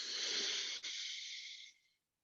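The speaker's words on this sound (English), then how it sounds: "breathing in through the nose" A slow, soft inhale through the nose during a guided breathing exercise, a breathy hiss that holds for nearly two seconds and then fades out. It is quiet and close, with no talking over it.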